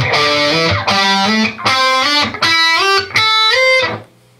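An electric guitar played through distortion rings out in a series of sustained, gliding notes that slide between pitches, five or six loud phrases with short gaps before the last one fades.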